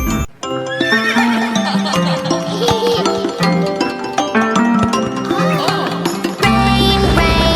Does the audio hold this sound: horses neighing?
yes